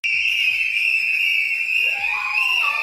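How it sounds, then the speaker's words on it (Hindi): A loud, sustained high-pitched whistle from family members celebrating blows continuously and nearly steadily, with a second whistle tone sliding in toward the end amid background noise. "उनके परिवार के लोगों ने कैसे सीटियां बजाकर इस खुशी को जाहिर किया"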